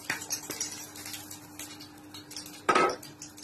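Taco filling cooking in vegetable oil in a pan, with metal utensils clinking and scraping against the cookware in short irregular knocks, close up and moderately quiet.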